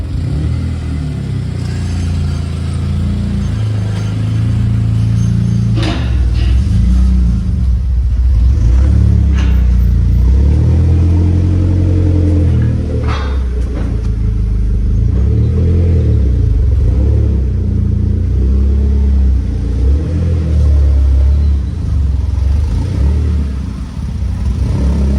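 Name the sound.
20-year-old SAAB car engine revving on dyno rollers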